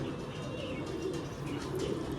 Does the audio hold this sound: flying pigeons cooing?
yes